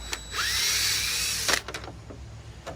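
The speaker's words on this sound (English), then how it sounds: "take our Phillips head screw gun, pop these 2 screws out real quick" A Phillips head screw gun backs two screws out of a 16-foot extension pole: a loud, steady high-pitched whir for about a second, then brief clicks and taps as it stops.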